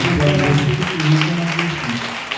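A church congregation at a French-language service claps and cheers in praise of Jesus. Lively applause fills the space, with voices calling out throughout.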